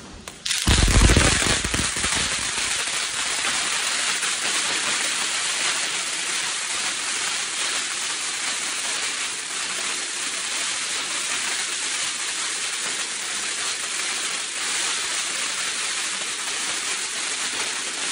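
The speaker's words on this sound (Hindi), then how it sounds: "ये है हमारे पास crackling coconut, mega crackling coconut, Balaji company का है। ठीक है, करते हैं इसको फायर" A Balaji Mega Crackling Coconut firecracker goes off outdoors with a sharp bang, then a dense, loud, continuous crackle of rapid tiny pops. The crackling holds steady for more than fifteen seconds.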